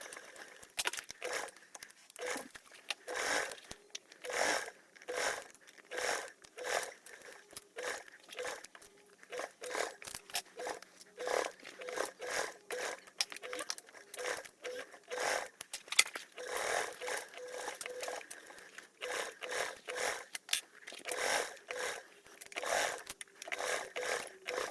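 A sewing machine bastes strap connector tabs and a back panel lining together, stitching in short irregular bursts with brief pauses between, quiet and close.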